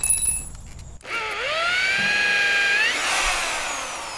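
A cheap power drill bores into material, its motor whine starting abruptly after a brief pause and holding steady, then rising in pitch near the end, close and alone.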